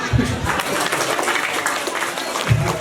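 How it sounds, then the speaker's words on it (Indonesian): Audience clapping at a community gathering, a steady moderate patter of many hands throughout with a couple of brief low voice bursts mixed in. "Tepuk tangan dong."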